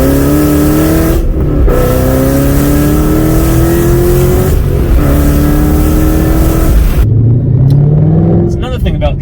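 A 2011-2014 Shelby GT500 V8 roars loudly at three-quarter to full throttle, pitch climbing steadily through several gears with brief shift breaks, then dropping to a lower rumble at the end.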